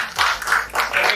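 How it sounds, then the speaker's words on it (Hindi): An audience at a spiritual corporate inspiration talk breaks into a brief burst of clapping, a short, close patter of claps lasting about a second. "सर के लिए तालियां होनी चाहिए।"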